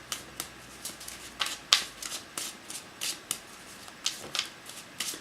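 Oracle cards are shuffled in a steady run of crisp riffling bursts, roughly a dozen quick papery flutters spaced evenly, close and clear with no talking.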